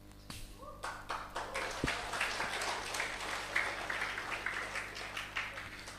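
An audience applauds at a religious talk, with steady clapping from many hands that swells and holds at a moderate level and stays fairly distant throughout.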